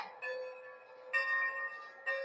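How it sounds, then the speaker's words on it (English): Locomotive bell on an A5 engine in a train simulator game, ringing in three sustained metallic strikes, each a bright tone that holds and overlaps the next, clear and alone. "And you get the same bell with 5 different pitch levels."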